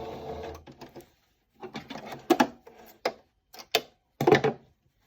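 A serger stitches a back stitch on a cloth face mask in short bursts of rapid mechanical whirring, separated by pauses and sharp clicks, close and fairly loud.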